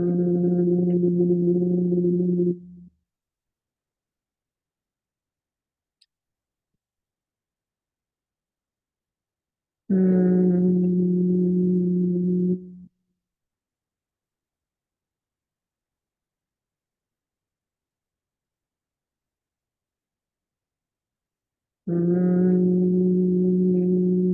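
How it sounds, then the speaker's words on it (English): A humming bee breath exhale in a yoga session: three steady, low, buzzing hums, each about three seconds long, separated by long stretches of silence. "Breathing in and using that buzzing noise as you breathe out."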